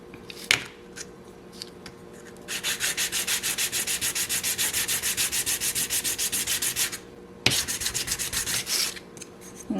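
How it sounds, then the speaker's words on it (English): Sandpaper is rubbed back and forth on a small wooden piece for a dollhouse vanity, giving fast, even rasping strokes. A long steady run of rhythmic scrubbing is followed by a pause and a second burst, close and alone. "I'm going to do a little bit of sanding to make them fit perfectly."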